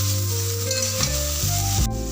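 Vegetables with eggplant fry in oil for Bengali shukto, giving a steady close sizzle broken by a few scraping stirs of the spatula through the pan.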